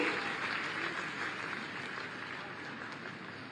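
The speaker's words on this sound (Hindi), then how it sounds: "जोरदार तालियां होनी चाहिए आपके लिए" Applause fills the hall at an official award ceremony with Chief Minister Yogi Adityanath, where a rural livelihood mission cheque is being presented; a dense, steady wash of many hands clapping at a moderate distance.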